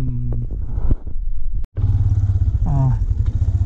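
A motorcycle engine rumbles low and steady nearby, briefly cutting out for a moment before resuming its throaty idle.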